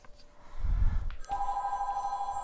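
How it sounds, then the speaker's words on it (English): A telephone ringing indoors, its bell trilling loud and sustained after a brief low thump, with no talk over it. "Oh, there goes my phone."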